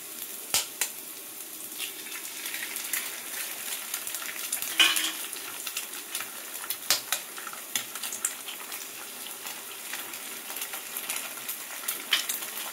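Two eggs and lightly browned chopped onion fry in hot oil while being stirred: a soft, steady sizzle broken by scattered clicks and scrapes of a utensil against the pan, fairly quiet and with no talking.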